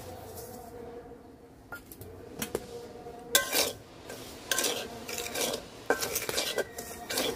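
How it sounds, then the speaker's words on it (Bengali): Semolina dry-roasting in a pan over a flame, heard as close, irregular scraping and rubbing of a spoon against the metal, with occasional louder clanks and no talking. "সুজিটা ভাজা নেব।"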